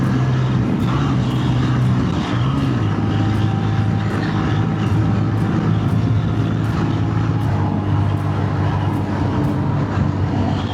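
A lightweight motorcycle cruising at highway speed, a steady loud engine drone under heavy wind rush, with a brief dip in pitch early on as it shifts from fifth to sixth gear.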